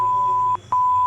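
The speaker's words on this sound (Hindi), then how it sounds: "वो फ़ोन की आवाज़ बीप बीप बीप की आवाज़ में बदल गई" A phone sound effect in an audiobook, heard just after a gunshot: a steady electronic tone that cuts out twice, giving short repeated beeps over a low hum.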